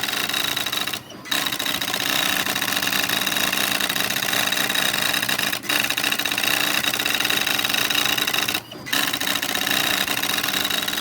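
NEC Spinwriter daisy-wheel printer printing its self-test, a continuous loud rapid clatter of character strikes broken by three short pauses, close up.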